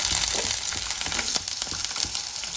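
Potatoes frying in a kerahi wok sizzle steadily and loudly throughout, with a dense crackling hiss and occasional soft knocks from stirring.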